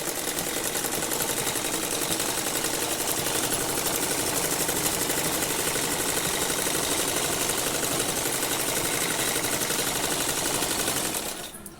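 A sewing machine runs steadily, stitching a straight seam along the bottom of a Patiala salwar, with a continuous loud mechanical whir that lasts almost the whole time before stopping abruptly at the end.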